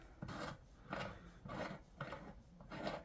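Fuel tap being screwed onto a 1980 Honda Camino moped, giving five evenly spaced rasping turns about half a second apart, close and fairly loud with no talk.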